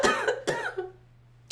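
Two sharp, close coughs in quick succession, followed by a short pause and a brief third cough.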